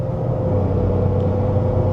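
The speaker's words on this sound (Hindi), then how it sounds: "इंजन की जो नॉइज़ है केबिन के अंदर आती है, जैसे मैं एक्सेलरेट कर रहा हूँ" Steady low engine drone with a constant hum, heard from inside a car cabin while accelerating, continuous and fairly loud with no talking.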